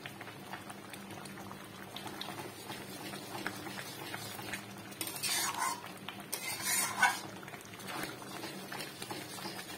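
A spatula stirs thick khesari dal (grass pea lentils) simmering in a pot, with steady bubbling and scraping strokes against the metal, rising in a couple of louder swirls.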